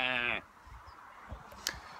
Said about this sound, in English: There we have some sheep scattered on the distance over there.